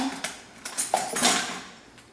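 Metal spoon and dishes clinking in a home kitchen while making pizza with kids, a few light scattered clatters and taps close by, no talking.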